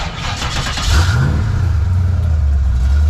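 A naturally aspirated 347 Ford Fox Body notchback drag car fires up in a shop and revs hard, its loud engine rising in pitch and then holding at a rough, rumbling high idle.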